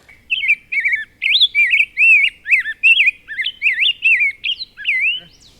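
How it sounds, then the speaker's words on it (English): A red-eyed vireo sings a rapid series of short, varied whistled phrases, each a quick two- or three-note burst separated by brief pauses, clear and close. "Red-eyed vireo."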